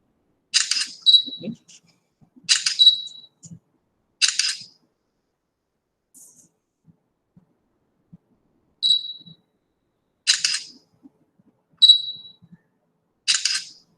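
Short, sharp clicks come in separate bursts during stop motion animation work, roughly seven isolated taps spaced a second or two apart over near silence.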